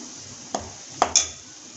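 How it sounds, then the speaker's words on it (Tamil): Dried red chillies fry in oil in a pan for chutney, giving a faint, low sizzle broken by a few sharp clinks of a spoon stirring against the pan. "இது இப்போது இந்த எண்ணெயிலே நல்லா வேகட்டும்."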